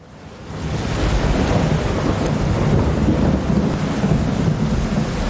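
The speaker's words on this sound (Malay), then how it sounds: "Saya dengar ada bunyi guruh" A deep, rolling rumble of thunder swells up and keeps churning steadily for several seconds, loud and broad, with no voices.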